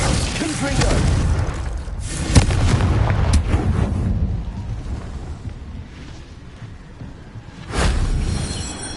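Spell effects in Hogwarts Legacy, ending with a fiery Confringo blast: a run of booming, crackling bursts with sharp hits near 2.4 and 7.8 seconds over constant rumbling game noise.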